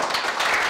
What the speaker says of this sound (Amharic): አጨብጭቡላት እስቲ።